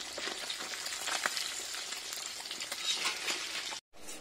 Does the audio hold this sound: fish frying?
yes